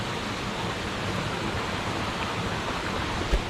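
A forest stream in the Aranamala jungle of Meppadi, Wayanad, rushes in a steady, dense, even wash of flowing water, continuous and close, with no voices.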